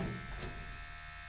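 A tattoo pen machine set to a 5 mm stroke runs with a steady, close electric buzz and hum that holds unbroken for the whole moment.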